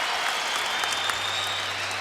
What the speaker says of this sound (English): Loudest the crowd has been by far this afternoon